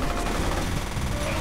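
Dense, continuous video game gunfire, including shotgun blasts, fills the clip, loud and close, with no clear gaps between shots.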